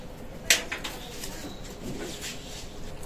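A pair of Oman-bloodline teddy pigeons coos low and soft nearby after a sharp click near the start, with light rustling and a few scattered bird sounds around them.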